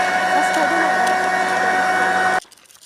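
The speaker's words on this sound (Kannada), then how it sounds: "ನೋಡಿ ಮತ್ತೆ ಗ್ರೈಂಡ್ ಮಾಡಲಿಕ್ಕೆ ಹೋದೆ" A kitchen mixer grinder runs loud and steady with a whirring mechanical drone, then cuts off abruptly near the end, leaving a quiet room.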